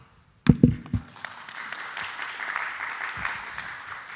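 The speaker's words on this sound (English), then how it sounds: "I want you all to give yourself a round of applause." Attendees at a community steering committee meeting start clapping after a silent pause, a few loud claps that grow into steady, moderate applause filling the room.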